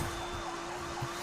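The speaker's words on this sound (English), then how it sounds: "now there's of course a lot more police cars around" Police car sirens wail steadily in the HotShot Racing video game, a continuous electronic tone held over a low rumble of racing engines, with no talk.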